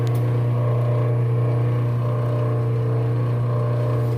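A pump on an anhydrous ammonia toolbar rig priming the hoses to the atomizer hums in a steady, loud, unbroken drone, close by and alone with no talk.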